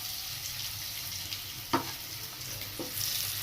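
Potatoes frying in a pan for a duck egg curry, a steady broadband sizzle close by with a couple of brief clanks partway through, no voices.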